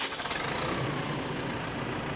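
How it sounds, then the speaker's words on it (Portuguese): LS tractor engine rumbling steadily in a continuous low drone, close and moderately loud, with no voices over it. "Foi com o ronco do trator."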